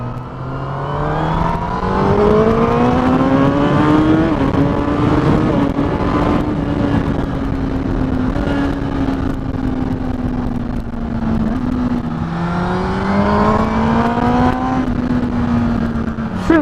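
A 2018 Honda CBR1000RR SP sport motorcycle engine pulls hard through the gears, its rising whine climbing, dipping at each shift, and climbing again; loud, close and continuous, with no talk.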